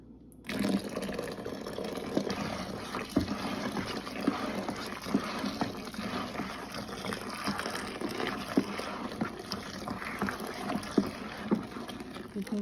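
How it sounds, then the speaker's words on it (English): Hot water is poured into a batch of homemade laundry soap made with baking soda, giving a steady, close splashing and gurgling of liquid that runs continuously for several seconds after an abrupt start. "I'm gonna add some more hot water."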